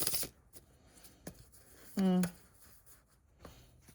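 Tarot cards being shuffled, giving soft, faint riffling and tapping clicks spread across the moment, with a brief louder tonal burst partway through.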